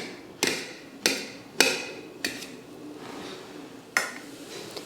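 A knife cuts ripe nendran banana into small pieces on a board, about six sharp, distinct chops at uneven intervals, close and clear with no talk.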